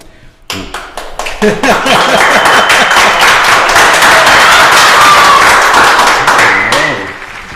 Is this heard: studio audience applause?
yes